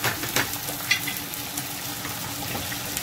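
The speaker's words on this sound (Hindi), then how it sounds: "इसको भी हम भूनेंगे।" Ground onions with garlic-ginger paste fry in a pan, making a steady close sizzle with occasional soft stirring scrapes.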